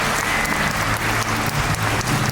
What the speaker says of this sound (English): How about a round of applause for Kay and trainer Jack for showing us target pull fundamentals